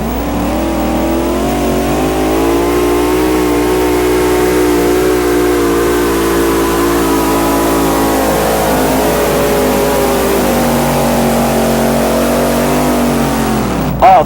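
A 1976 Chevy LUV-based funny-car pulling truck, Shazam, roars at full throttle during a 1986 NTPA tractor-pull run, a loud, sustained, droning engine howl with a slowly shifting pitch that cuts off sharply at the end.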